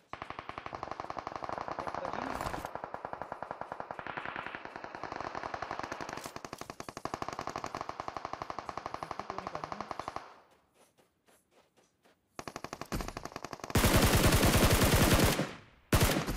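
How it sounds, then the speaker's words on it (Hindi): Rapid automatic gunfire from a battle royale video game rattles in long continuous bursts, then briefly drops to scattered faint shots before a louder, denser burst returns. No voices are heard. "तभी फायरिंग होती है।"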